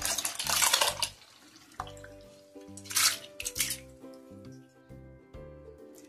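Whey from curdled milk is poured off through a cloth to separate the chhena, giving short bursts of splashing and trickling water between quiet pauses, close by in a kitchen with faint background music.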